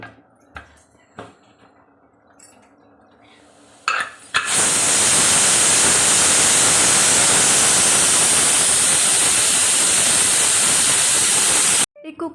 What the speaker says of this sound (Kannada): ಈ ಕುಕ್ಕರ್ದು ಪ್ರೆಷರ್ ಹೋಗಿದೆಯಾ?